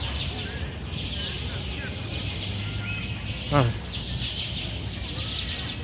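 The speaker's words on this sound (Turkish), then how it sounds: "Bu kuşlar ötüyor." Birds chirp in a park garden in Peru, faint repeated calls over steady outdoor ambience, with a person speaking briefly nearby.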